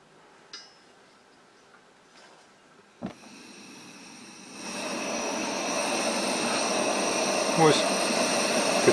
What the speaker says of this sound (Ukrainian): таке полум'я досить потужний пальничок